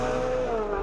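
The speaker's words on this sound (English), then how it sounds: "Next, it's my turn in the 458 to see what it's like when you just want to go fast" Ferrari 458 Italia driven flat out on a race track, its engine holding a high, slowly falling whine with a hint of tyre squeal, loud and close throughout, no voices.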